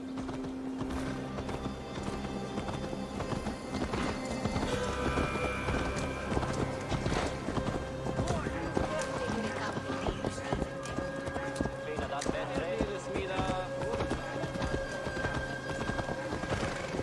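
Horse hooves clip-clop steadily in the Assassin's Creed Valhalla video game, a continuous close trot under game music with occasional neighing and voices talking.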